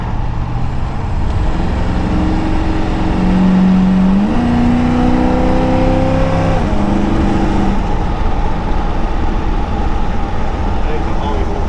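A 1979 Chevy K10 truck with a Holley Sniper EFI 2 drives along, its engine droning loudly and climbing in pitch as it accelerates through the gears, with road and cabin noise throughout.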